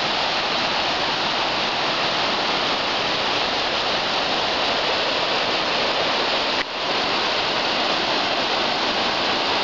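Steady rushing water of Separation Creek flows without pause, a broad even hiss like a creek tumbling over rocks nearby.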